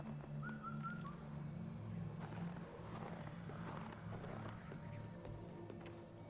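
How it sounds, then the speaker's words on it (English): A bird perched in a tree in the video game Wuchang: Fallen Feathers gives a short whistled call of a few notes near the start, faint over a steady low ambient drone. "I can hear the bird. I think it's sitting in the tree."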